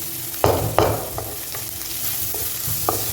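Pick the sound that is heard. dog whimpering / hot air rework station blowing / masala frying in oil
masala frying in oil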